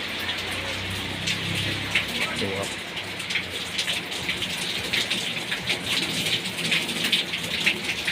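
Heavy rain pours steadily onto a car, a dense hiss with scattered patters of drops striking the body, close and continuous, with a low rumble early on.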